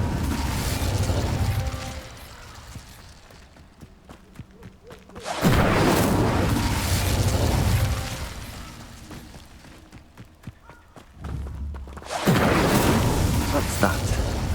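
An Incendio fire spell cast in Hogwarts Legacy, rushing bursts of fiery noise that swell and fade twice amid quieter in-game sound, with a voice speaking at times.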